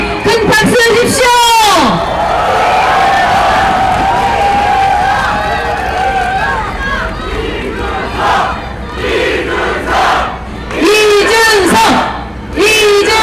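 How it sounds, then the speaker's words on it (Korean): A large crowd cheers, whoops and chants loudly at a presidential campaign rally for a candidate at COEX in Gangnam, with loud bursts of cheering at the start and end and a steadier roar in between, under an announcer's amplified voice. "여러분 큰 박수와 함성 주시겠습니까?"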